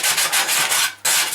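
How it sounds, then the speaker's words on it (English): Emery cloth rubbed back and forth along a metal edge of a Land Rover Series III front panel, several quick rasping strokes, close and loud, with a brief pause near the end. "Just going to finish that edge off with a bit of emery cloth."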